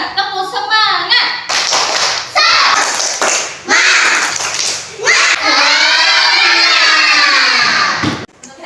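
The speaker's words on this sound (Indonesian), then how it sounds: "Mari kita bertepuk semangat. Tepuk semangat." Schoolchildren in a classroom do a rhythmic spirit clap led by their teacher, bursts of clapping mixed with loud chanting and shouting, ending in a sustained group cheer.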